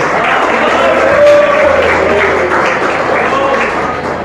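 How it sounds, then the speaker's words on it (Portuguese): A church congregation claps loudly and steadily while voices call out and cheer over the clapping, forming a full, crowded wash of sound. "Receba o servo de Deus com as palmas que exaltam o Senhor Jesus"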